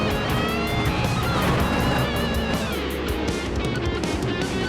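A V8 supercar engine in a racing game, with a Holden Commodore on track, screams loudly at high revs and bounces against the rev limiter in a rapid stuttering pulse before easing off.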